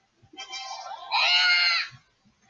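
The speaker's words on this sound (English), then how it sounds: "What was the scream about?" A loud, drawn-out, wavering scream from the Roblox game Bee Swarm Simulator swells and then cuts off, with faint voices talking around it.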